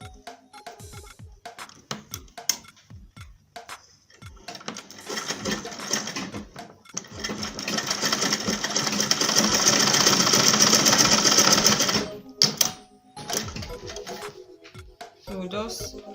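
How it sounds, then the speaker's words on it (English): A sewing machine stitching a satin bonnet, first in short stop-start bursts, then in one long steady run of fast stitching lasting several seconds before slowing, with a person talking between the bursts. "So I'll go ahead and sew."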